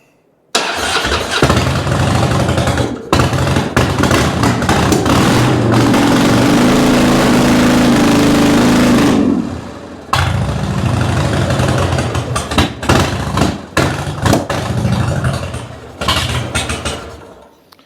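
A 2006 Harley Dyna motorcycle engine with a new fuel pump runs loud and close, a steady idle dropping out briefly around nine seconds before firing up again, then running on with uneven throttle until it cuts off.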